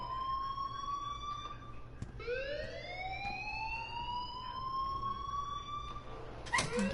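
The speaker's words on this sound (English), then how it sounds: "please turn off that alarm since that's your job" An alarm wails in the video game Life Is Strange, rising and falling siren tones sweeping repeatedly, fairly faint against a low background hum, with a sharp clatter at the end.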